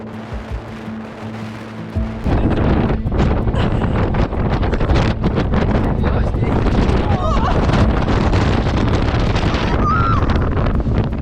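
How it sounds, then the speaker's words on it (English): Fierce storm gusts reaching 130 km/h roar across the microphone, a brief quieter lull at the start giving way to a sustained, heavy buffeting rumble. "gusts of wind reached 130 kilometres an hour"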